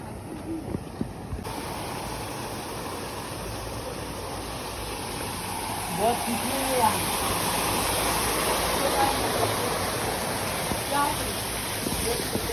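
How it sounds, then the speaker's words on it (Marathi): Continuous rushing of falling river water fills the scene, steady and close, with voices talking faintly underneath. "हे बघा पाणी बघा पडत आहे"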